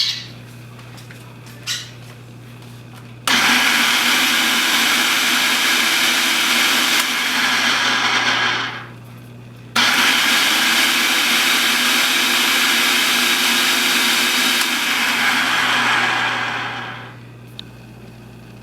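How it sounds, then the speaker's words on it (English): A food processor purees jalapeno peppers in two long, loud, steady whirring bursts, each several seconds, with a brief pause between them and no talking. "And then I'm going to process this until it's pureed."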